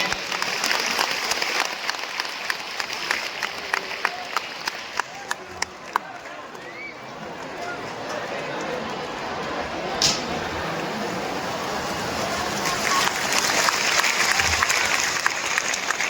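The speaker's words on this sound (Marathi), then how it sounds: "भगवंता सुंदर माऊली सद्गुरू महाराज टाळ्या वाजवून स्वागत करायचं आहे." A large gathering at a spiritual convention claps to welcome the guru, a long run of crowd applause with scattered sharp claps, swelling again toward the end under faint voices.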